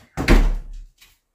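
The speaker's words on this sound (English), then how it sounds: "I'm just going to shut this door." A door swung shut indoors with a single solid thud, close and fairly loud, followed by a short faint rattle as it settles.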